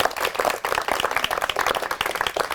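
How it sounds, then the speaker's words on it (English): Audience applause for a speaker named Dana on an African American history memorial tour, a dense steady round of clapping sustained throughout with no break. "let's just first give Dana a round of applause"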